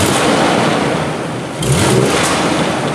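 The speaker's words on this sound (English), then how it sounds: "and we snap the throttle." A car engine revs as the throttle is snapped, a loud steady roar that dips briefly and then surges back up, heard close with no talk.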